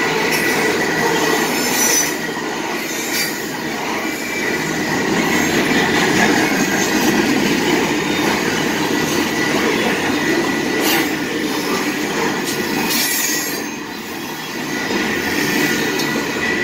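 A mile-long Union Pacific/Canadian Pacific grain train rolls past close by on a 1.04% grade in Aurora, Oregon, wheels squealing and cars rumbling steadily, with rhythmic clatter over the rails.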